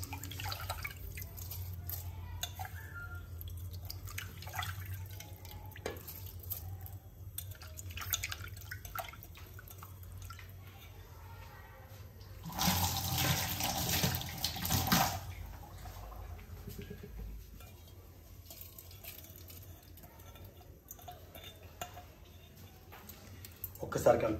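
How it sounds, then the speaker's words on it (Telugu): Two glasses of water poured into a pot of plain, non-basmati rice for bagara rice: a short, loud splashing pour midway, with quieter kitchen noises and a voice around it. "అందుకని కరెక్ట్ 2 గ్లాస్ వాటర్ పోసాం"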